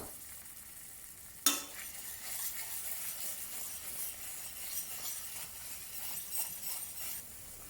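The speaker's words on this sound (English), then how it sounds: "Saute until aromatic and then add 2 tablespoons of tomato puree." Tomato puree sizzles steadily as it is sautéed for a chicken Madras curry, with a sharp clink near the start followed by continuous soft frying and stirring.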